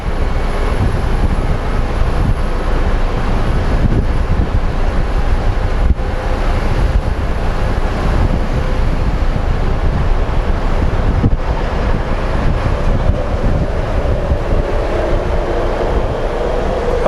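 A Frontier airliner taking off steeply from Phoenix Sky Harbor, a steady loud engine roar with broad rushing noise and wind buffeting on the microphone, sustained throughout without talk.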